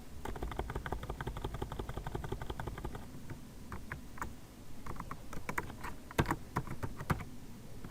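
Computer keyboard keys clacking in quick irregular bursts while text is entered in thumbnail design software, steady and close throughout with a few sharper isolated key presses near the end.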